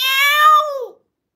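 A single cat meow, loud and close, sliding downward and ending abruptly, followed by silence.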